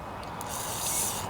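Carburetor cleaner sprays from an aerosol can down into a hole on a 139cc OHV engine of an MTD Yard Machines rototiller that won't start, a close, steady hiss with faint mechanical clicks.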